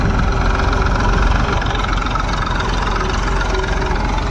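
Several tractors idle together in a field, a steady, loud low rumble with a faint rhythmic knock throughout and no talk.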